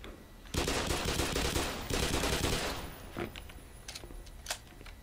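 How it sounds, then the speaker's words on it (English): Rapid bursts of gunfire from the video game Black Mesa, loud and dense for a couple of seconds, then thinning to scattered single shots. "He shot me!"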